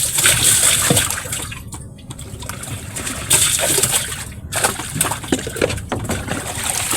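Water splashes and trickles close by in uneven bursts as a boat is washed, with brief pauses between the pours and sloshes.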